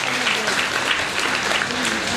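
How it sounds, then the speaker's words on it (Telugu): An audience at a Mother Teresa birth anniversary celebration claps steadily to welcome a guest onto the stage, a brief, dense burst of applause with a voice faintly beneath it. "గట్టిగా చప్పట్లతో స్వాగతం పలుకుతాం"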